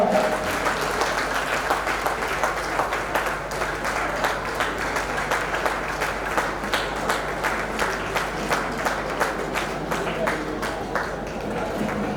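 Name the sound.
crowd applause at welcome ceremony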